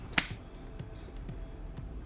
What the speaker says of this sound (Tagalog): Ay, isang palakpak lang ni Kuya.